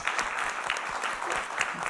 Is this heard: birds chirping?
no